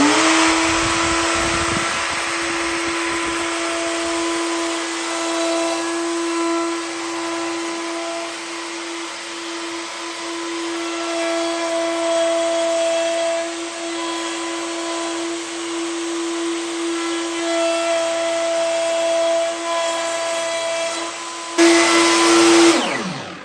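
A router on a DIY sled jig flattening a wood slab gives a loud, continuous high whine for over twenty seconds, with a brief surge near the end.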